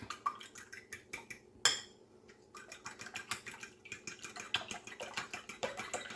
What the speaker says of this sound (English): So whisk that all together with your fork.